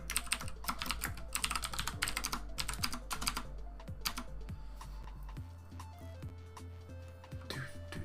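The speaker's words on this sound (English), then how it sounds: "if I can type tonight" Rapid, uneven bursts of key clicks from a computer keyboard, close and fairly loud, typed in short runs with brief pauses over a steady low hum.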